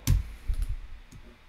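A few light, quick clicks, one sharper and then softer ones in a loose cluster, as a control is shift-clicked to store a preset in a software patch; close and dry with no talking.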